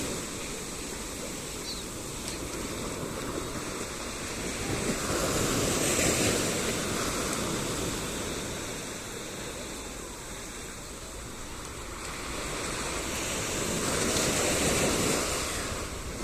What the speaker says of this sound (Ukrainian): слухати шум океану